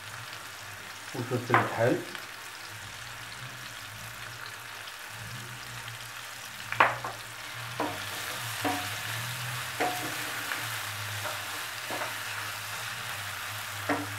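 Garlic cut into rounds sizzles in hot oil in a pan for a dish of Sicilian-style sardines, a steady frying hiss broken by a few sharp crackles and stirring clatters, with brief speech early on.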